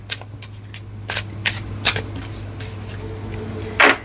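Tarot cards shuffle in a series of quick crisp riffles and flicks, then a card is drawn and slapped down with a louder snap near the end, close and without talk.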